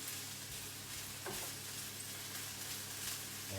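Chopped onion frying in a pan on medium heat for a quiche, a steady close hiss and crackle of sizzling that holds evenly throughout without talk.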